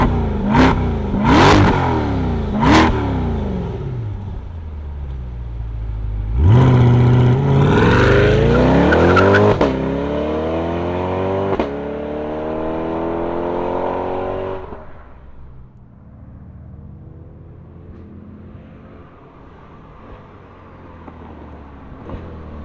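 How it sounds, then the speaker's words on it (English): A 2022 Chevrolet Corvette Stingray C8 convertible 3LT V8 fires up loud and close, followed by a few sharp throttle blips and a long rising rev that falls back to a steady idle. "Let's fire it up and rev up this C8 Corvette."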